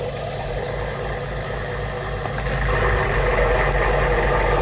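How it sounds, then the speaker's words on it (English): An old truck with a 6.2 engine idles in a video game, a steady low rumble that swells a little louder and fuller partway through, with no talking. "It's idling."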